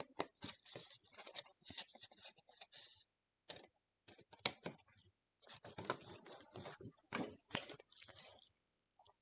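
Close, crisp snips and rustling of scissors cutting straight through scrapbooking paper to make a corner come in short bursts with brief pauses between them.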